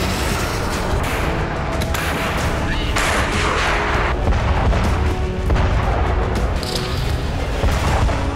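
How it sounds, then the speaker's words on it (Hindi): Artillery shelling in Ukraine during the Russian invasion, a dense, continuous roar of heavy booms and rumbling blasts, loud and sustained, with scattered sharper impacts over a thick low-frequency wall of noise. "यूक्रेन पर गोले बरसे, बर्बादी हुई"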